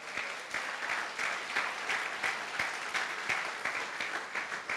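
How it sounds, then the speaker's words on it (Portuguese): Worshippers at a church service applaud together, a lively, continuous clapping from a large group with sharper individual claps standing out now and then, heard fairly distant and alone. "Você pode dar uma salva de palmas ao Senhor?"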